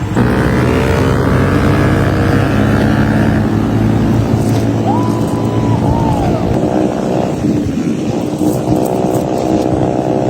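A motorcycle rides along a road in Cebu, its engine droning loudly and steadily close by with wind rush, a brief horn-like tone partway through.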